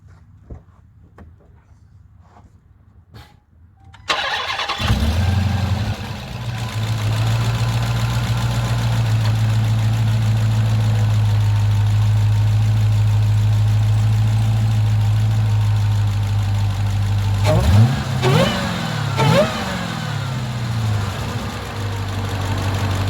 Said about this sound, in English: I'm gonna do a quick startup, and then I'll do a couple quick yanks so you can hear the blower noise and everything.